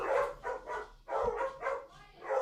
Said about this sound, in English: I hope you can hear my dogs out there having a good old time